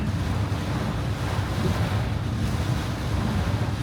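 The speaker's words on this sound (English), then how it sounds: "It looks like some of the water from the ocean is coming over onto the into the beach." Storm-surge ocean waves from Tropical Storm Debby wash onto a beach in a steady, roaring wash of surf, with wind buffeting the microphone throughout and no voices.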